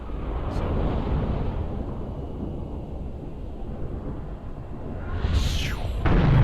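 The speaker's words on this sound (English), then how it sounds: "And then, of course, there's the explosion after that." A follow-up explosion in Halo 3: a deep, sustained rumble rolls on for several seconds, then a sharper burst erupts near the end and swells louder.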